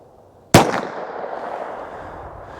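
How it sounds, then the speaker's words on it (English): A single sharp, loud gunshot from an Underwood Xtreme Defender .380 +P round fired into ballistic gel, followed by a short decaying ring-out and quiet. "let's get 3 rounds of this Plus P"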